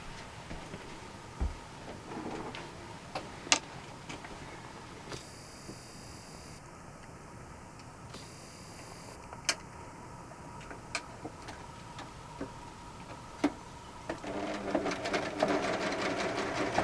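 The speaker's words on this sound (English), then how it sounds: "And then we're going to sew that seam as well." A sewing machine stitches a quilt seam with a quiet, close mechanical whir and faint ticking, marked by occasional sharp clicks and a brief louder burst of running near the end.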